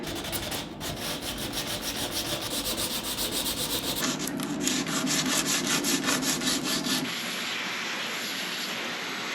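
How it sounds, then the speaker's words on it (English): Steady rhythmic hand sanding of epoxy, rough back-and-forth rubbing strokes on a hard surface of boat trim, continuous and close, stopping abruptly near the end. "this was pretty tedious sanding"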